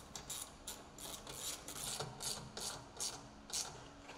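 Screws being driven and torqued into a Polaris Xpedition XP roof speaker mount give a quiet, rhythmic series of ratcheting clicks, roughly two per second, with no talk over them.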